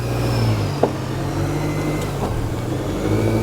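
A GMC Canyon AT4 pickup crawls up and over an off-road hill obstacle, its engine droning steadily at low revs with a brief knock partway through and no talking.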